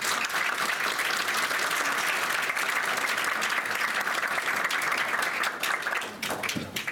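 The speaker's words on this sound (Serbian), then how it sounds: "Molim vas za jedan veliki aplauz" A large conference audience at a sales congress CRM panel breaks into sustained loud applause, dense steady clapping filling the room from start to finish and tapering slightly at the end.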